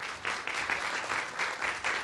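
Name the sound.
audience applause at a pitch night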